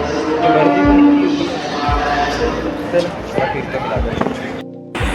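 A crowd packs a train station during the Ganesh Chaturthi festival, a dense murmur of many voices with low thuds and footsteps, close and continuous before a brief drop near the end.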